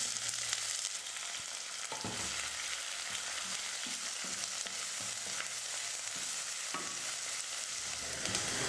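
Sliced onions and curry leaves sauté in hot oil for radish sambar, a steady close sizzle and crackle running throughout with a few soft stirring scrapes and clinks, and no one speaking.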